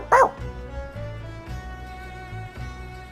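A pup in Final Fantasy 14 lets out one sharp near bark, then soft whimpering yips over a gentle musical game score.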